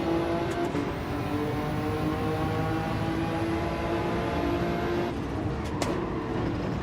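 A Lamborghini engine racing in Gran Turismo 7 at a rain-soaked Suzuka, a steady, sustained high-revving drone held at near-constant pitch, with a brief shift in tone toward the end.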